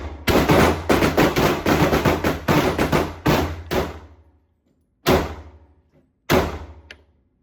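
Handgun gunfire at an outdoor shooting range: several shooters fire a dense, rapid volley of loud cracks for about four seconds, then two final isolated shots ring out after short pauses.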